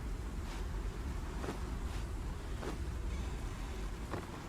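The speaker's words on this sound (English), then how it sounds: "Windy." Steady wind blows with a low rushing roar, broken by several faint airy whooshes spaced a second or so apart, in the video game Conan Exiles.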